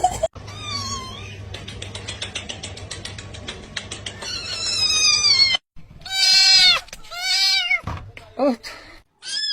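A cat meows several times near the start and in the second half, with short harmonic calls between stretches of steady background noise and a person speaking.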